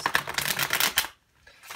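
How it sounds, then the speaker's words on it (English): Tarot cards are shuffled close up in a quick riffling burst lasting about a second, followed by a short pause and a faint start of another shuffle, with no talk. "Three shuffles. One last shuffle."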